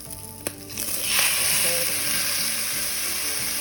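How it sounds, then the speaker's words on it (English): Canned diced tomatoes tumble into a pan of crisping bacon, and a loud, steady sizzle swells up after a brief thud and keeps hissing close by with no one talking. "I am going to go ahead and add in 1 can of these diced tomatoes"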